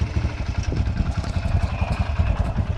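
A Yamaha TT-R125 dirt bike engine with bad fuel struggles to idle, giving a close, uneven, pulsing low rumble that sputters and never settles into a steady beat.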